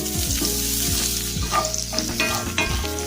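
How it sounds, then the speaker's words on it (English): Sliced onion drops into a hot frying pan for vegan rasta pasta and sizzles loudly and steadily up close, with stirring and scraping over the constant frying hiss. "So I have some onion here, slice. So I'll drop them in."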